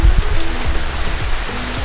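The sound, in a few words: heavy rain falling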